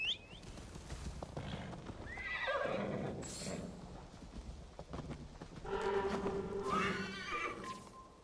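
A horse in Assassin's Creed Valhalla whinnies twice over steady clip-clopping hooves, close and moderately loud, with no speech.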